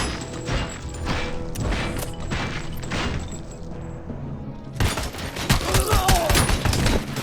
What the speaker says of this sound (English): Fancy assault rifle.